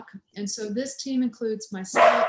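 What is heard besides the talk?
pet dog barking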